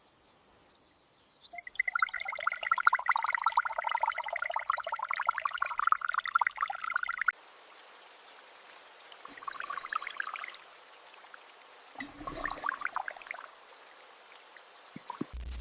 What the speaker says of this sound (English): a slow pour from a tall bottle into a jar